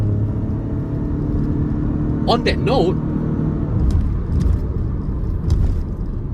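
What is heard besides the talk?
Lexus LBX hybrid, 1.5 litre 3-cylinder turbo engine, driving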